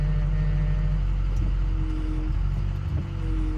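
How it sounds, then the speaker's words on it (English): A rebuilt Ford Powerstroke diesel truck engine idles with a steady low rumble and a slight, thin whine riding on top, continuous and fairly close throughout. "It's got just a little whine right now, not touching anything."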